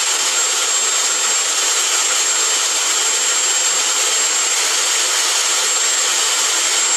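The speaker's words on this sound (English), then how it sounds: "Now switch over to the final drill." A power drill fitted with a sanding attachment grinds steadily along the barrel seams of a Merkava tank model, giving one loud, unbroken whirring rasp that holds the same pitch throughout with no pauses.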